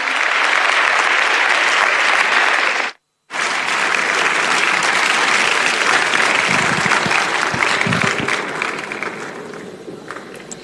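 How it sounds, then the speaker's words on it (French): Audience applause at a ministerial investment forum opening, thick sustained clapping broken by one abrupt silent gap, then resuming and gradually thinning toward the end. "Sous vos applaudissements, mesdames et messieurs."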